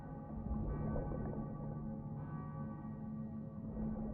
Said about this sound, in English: I think I hear those bells too.